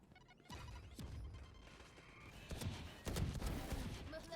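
Gunfire in the tactical shooter Valorant, several sharp cracks in a loose burst, the later shots louder and closer, over steady game noise with a faint voice in the background.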